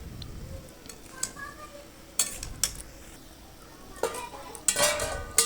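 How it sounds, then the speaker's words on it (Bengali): Spices being stirred and sautéed in a pan on a gas stove, with scattered scrapes and clinks of a utensil against metal over a soft background hiss, close by. "আমি নেড়ে ভালো করে কষে নেব লবণ হলুদ পরিমাণ মতো দিয়ে দেব"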